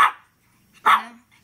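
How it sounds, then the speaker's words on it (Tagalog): Four-month-old shih tzu puppy giving two sharp, close barks separated by a short pause, the second followed by a brief whine. "Bakit ka tumatahol?"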